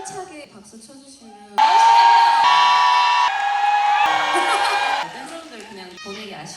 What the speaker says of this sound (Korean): 힘차게 박수 쳐주시면